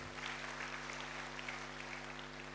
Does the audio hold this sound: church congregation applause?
yes